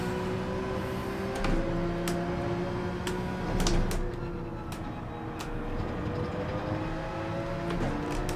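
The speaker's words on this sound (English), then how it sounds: "You can hear that Z4 from here." BMW Z4 Group 3 race car engine in Gran Turismo 7 at Lago Maggiore East, a steady droning engine note with gear-shift steps and sharp clicks, heard from a distance without talk.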